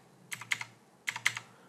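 Computer keyboard keys typed in two short bursts of several clicks each, close and fairly quiet, with a brief pause between them and no talking.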